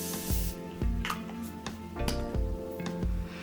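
A makeup setting spray is pumped in several short, crisp hissing bursts close by, evenly spaced with brief pauses between them.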